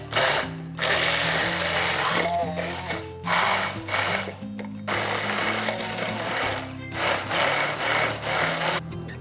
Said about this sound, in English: we're just gonna immersion blend this until it's nice and creamy